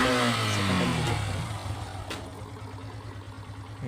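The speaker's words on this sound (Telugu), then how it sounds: "మీరు ఇక్కడ చూడవచ్చు, సింగిల్ స్టార్ట్కే బైక్ స్టార్ట్ అయిపోతుంది." Yamaha FZS 2018 motorcycle engine catching on a single press of the self-starter and settling into a steady, close idle with a low rhythmic thump.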